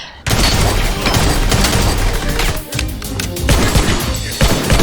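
Dense, continuous gunfire and booming impacts from an action scene in the film John Wick: Chapter 3, loud and sustained with crashing hits and brief lulls.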